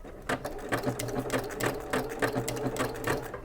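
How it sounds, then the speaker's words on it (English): A hem stitch sewing machine runs at a steady rapid clatter, its needle strokes close and evenly repeated with no pauses. "done by a hem stitch machine"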